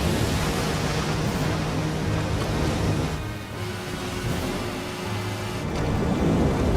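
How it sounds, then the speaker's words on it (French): Rolling thunder in a film, a long continuous rumble with low tones and noisy rain-like hiss, dipping briefly in the middle before swelling again, heard alone without voices. "On aurait dit le tonnerre!"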